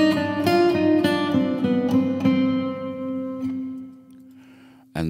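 Picked guitar chords ring through an EMT 140 plate reverb with a 1.5-second decay, the notes trailing into a smooth shimmering tail before a new sound cuts in at the end.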